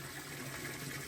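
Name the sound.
garden pond being refilled with water from a hose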